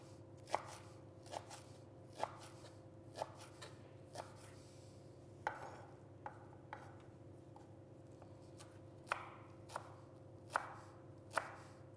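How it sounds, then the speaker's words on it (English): A knife finely chopping washed spinach leaves on a board, sharp knocks coming in an uneven rhythm of about a dozen strikes over a steady low kitchen hum, close and fairly quiet. "So I've chopped my spinach leaves."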